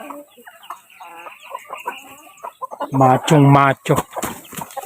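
Brahma chicken clucking nearby, loud throaty repeated clucks and calls over a few seconds, with someone speaking briefly in between.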